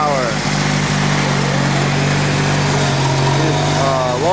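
A Craftsman snowblower engine runs steadily and close by during a northeaster snowstorm, a constant loud drone with a slight pitch shift near the end as the chute mechanism is adjusted.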